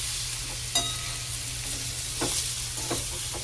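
Eggplant and masala for baigan bharta fry in a pan with a steady close sizzle, punctuated by a few stirring scrapes and light clinks, with no speech.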